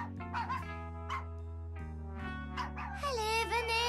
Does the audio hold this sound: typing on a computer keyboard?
no